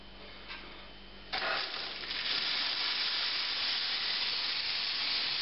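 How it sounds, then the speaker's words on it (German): Quick Mill Monza Deluxe espresso machine steam wand opens into a loud, steady, dry hissing rush of steam that continues unbroken to the end, after a short quieter stretch with faint clicks. "Um es euch einfach mal kurz vorzuführen, hier die Funktion der Dampflanze."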